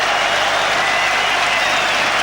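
A football stadium crowd at Chelsea versus Liverpool applauds a substituted player as he leaves the pitch, a dense continuous roar of clapping that stays loud and even throughout.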